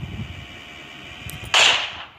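A single sharp gunshot in the video game PUBG Mobile, a short bright crack followed by a brief fading tail, preceded by a couple of faint clicks over quiet game ambience.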